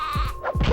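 A billy goat character in the video game Spyro: Year of the Dragon bleats twice in quick succession, close and clear, with a background tone underneath.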